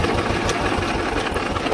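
A Swaraj 724 tractor engine runs in first gear pulling a 6x6 disk harrow, a dense steady rumble with rhythmic low knocking, loud and close throughout.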